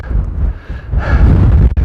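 Loud gusts of wind buffet the microphone on a mountain summit on the Appalachian Trail, a heavy low rumble that swells and surges without a break.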